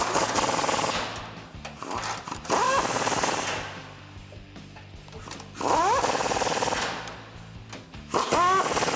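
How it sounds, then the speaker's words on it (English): A power tool on a 2007-2020 Toyota Tundra suspension lift tightens a bolt with a 19mm socket, running in three loud bursts separated by quieter pauses, each burst ending in a rising whine. "we can go ahead and tighten down with a 19mm socket"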